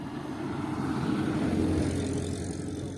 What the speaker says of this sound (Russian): Сейчас меня не будет слышно, потому что едет машина